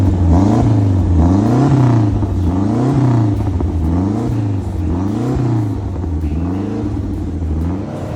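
A Lancia Integrale Group A rally car on track, its engine loud and close with a rhythmic rising and falling rev that repeats steadily throughout.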